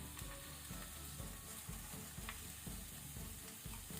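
Onion and masala paste fry gently over a low flame for stuffed squid, giving a faint, continuous sizzle. Steady background music plays over it.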